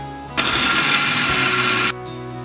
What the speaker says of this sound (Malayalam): ഇതെല്ലാം കൂടെ നമുക്കൊന്ന് മിക്സിയുടെ ജാറിലിട്ട് ഒന്ന് ക്രഷ് ചെയ്തെടുക്കാം